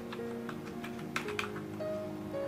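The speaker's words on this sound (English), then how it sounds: "So on Google, I'm just typing latest Microsoft Edge." Faint, scattered keystrokes on a computer keyboard tick softly at an uneven pace over a low hum and quiet tones.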